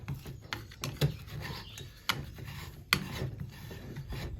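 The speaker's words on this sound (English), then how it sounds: "scrape it up off the bottom, just like this" Metal utensil scraping and chopping bacon and breakfast ingredients in a greasy skillet over an outdoor camp fire, with sharp rasping scrapes and a few distinct chopping knocks, close and fairly clear with no talk.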